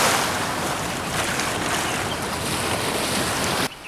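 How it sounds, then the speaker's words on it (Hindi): A swollen river roars with rushing water and churning waves, a loud, continuous broadband wash that stops abruptly just before the end. "आपके जल की यह गर्जना हमारे काम में रुकावट डाल रही है।"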